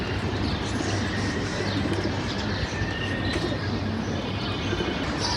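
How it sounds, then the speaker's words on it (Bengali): A flock of pigeons takes off together outdoors during a flying session, a steady broadband rush of wings and ambient noise with faint cooing and chirps mixed in, continuous and fairly loud throughout. "এই সবগুলো কবুতর উঠতে আছে একসাথে"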